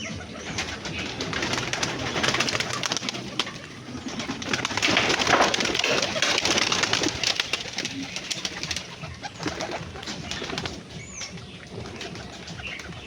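Pigeons cooing inside a backyard pigeon house, a steady chorus of soft low coos with occasional wing flaps and rustling, continuous and fairly close throughout.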